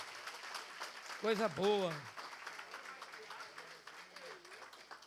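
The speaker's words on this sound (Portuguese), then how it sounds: "Pode aplaudir mais forte." A church congregation applauds in a soft, spread-out patter beneath someone speaking loudly nearby, with the clapping continuing faintly under his voice.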